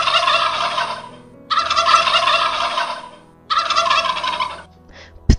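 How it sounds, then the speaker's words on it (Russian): A turkey gobbles loudly and close by, two long rattling gobbles separated by a brief pause, with no voices around. "Индюк."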